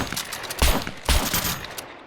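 Bursts of rapid gunfire rattle in quick succession in the video game SCUM, with two heavier booming shots punctuating the steady crackle of weapons.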